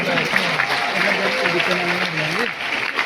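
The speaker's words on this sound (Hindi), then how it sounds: "और सीढ़ी के लिए भी जोरदार तालियां।" Audience clapping at a business anniversary event in a hall, a continuous wash of applause with a voice speaking over it throughout.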